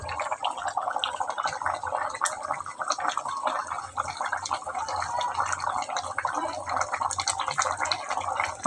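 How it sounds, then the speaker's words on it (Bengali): Chicken curry boiling in a pot, a steady close bubbling and gurgling that runs continuously at moderate level without pause, with no talk over it. "টকবক করে ফুটতেছে।"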